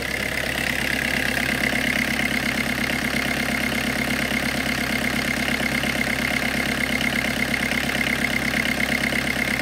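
A Peugeot 306 turbo diesel engine idles steadily and loudly throughout, a constant low rumble with a smooth, even hum and no talking.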